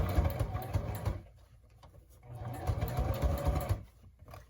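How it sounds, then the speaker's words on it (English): A sewing machine stitches lace onto a paper snippet roll, its motor whirring steadily in two runs separated by a brief slowdown, close and loud with no talk. "Let's just start sewing it on."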